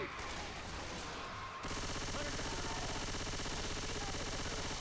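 Rapid continuous gunfire in Left 4 Dead 2 during a swamp level, a dense automatic burst that starts abruptly and stays loud and steady with no pauses.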